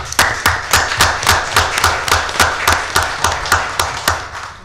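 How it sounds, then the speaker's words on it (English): A small council-meeting audience gives a round of applause: a thin, steady patter of individual claps at a brisk, fairly even rhythm, close and moderately loud, with no talking over it. "Round of applause, please."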